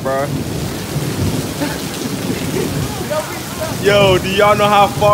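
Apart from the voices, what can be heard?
rain during a thunderstorm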